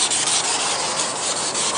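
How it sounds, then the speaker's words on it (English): Steady, close abrasive sanding of a plastic car headlight lens during restoration, a continuous gritty rubbing with a faint back-and-forth pulse and no voices. "when you're sanding the lens"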